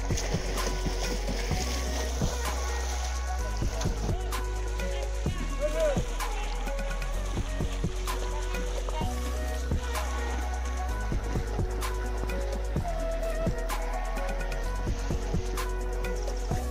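Motorboat engine on a village fishing pond, a steady low droning hum running throughout with people talking over it and background chatter.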